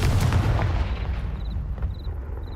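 A Confringo spell blast in Hogwarts Legacy, a heavy booming explosion up front that rumbles and decays over a couple of seconds, followed by faint small repeating chime-like tones.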